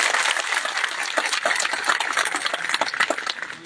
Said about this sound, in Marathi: त्यांच्यासाठी एक मोठा टाळ्यांचा जोरदार हात होतो